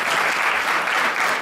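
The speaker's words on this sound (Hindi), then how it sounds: "इस जनता के लिए हम चाहते हैं कि एक बार सब आपस में मिलके हम सब ताली बजाते हैं" An audience at a musical evening in Varanasi claps together in a dense, continuous burst of applause, close and fairly loud, with no talking over it.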